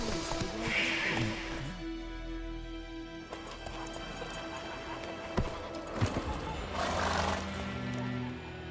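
Roach, Geralt's horse in The Witcher 3, neighs twice in long whinnies. Hooves clop and thud now and then amid outdoor ambience, with brief speech in between.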